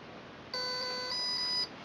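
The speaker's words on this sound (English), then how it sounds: "wait for some beeps" Hobbyking Multistar multirotor electronic speed controller during throttle calibration, giving a clear, steady electronic tone about a second long, plus a short second beep, over a faint background hiss.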